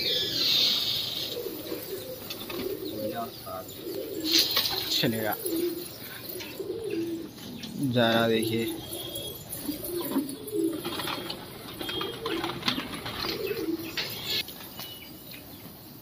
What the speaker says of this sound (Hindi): कबूतर आ रहा, देखिए बहुत तेजी से।